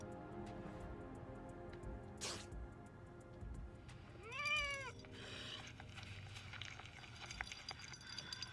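A single clear cat meow in the video game Dead Island 2 rises and falls over quiet ambient background, with a soft whoosh shortly before it.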